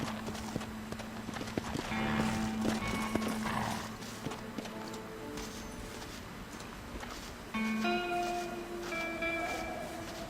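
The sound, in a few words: horse hooves and whinny in video game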